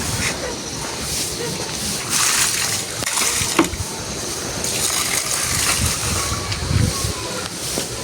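Water pours out in a steady, loud, splashing rush that runs on without pause, with occasional louder surges.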